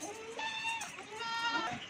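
Rajanpuri and Beetal nanny goats with kids drinking milk let out a couple of faint, wavering bleats at a distance over quiet background noise.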